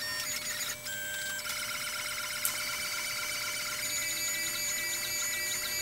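A CNC router with a 2-flute rapid spiral upcutting solid carbide cutter runs steadily through solid surface material, making a continuous high whine with a constant tonal drone and no pauses.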